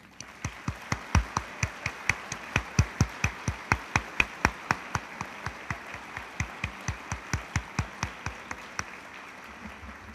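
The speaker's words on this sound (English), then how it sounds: "please join me in applauding the Chesapeake College students who are here today" Clapping for Chesapeake College students at a public meeting: a steady run of crisp, evenly spaced claps, fairly close and moderately loud, continuing for about ten seconds with no one speaking.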